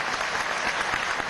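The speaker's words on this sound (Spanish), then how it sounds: "Vamos a darle un aplauso al presidente obrero" An audience at a Venezuelan government accountability session bursts into dense, sustained applause for the president, a loud wash of clapping from a large crowd.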